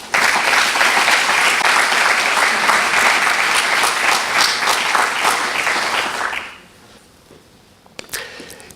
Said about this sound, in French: Je pense qu'on peut les applaudir tous très fort.